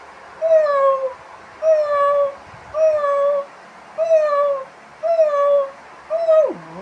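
A human voice imitates a cat's meow in a puppet show, giving six evenly spaced drawn-out mews, the last one sliding downward in pitch, alone without talk.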